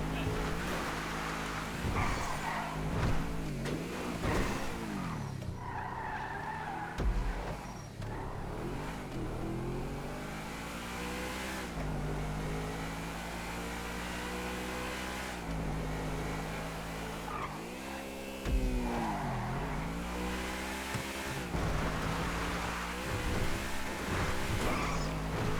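Cars race in GTA V Online, with engines revving and shifting continuously and tires squealing, loud and close throughout with no break.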